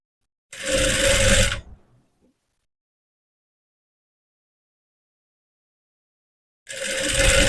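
An electric sewing machine stitches piping onto a blouse in two steady, close whirring runs, each about a second long and separated by several seconds of silence.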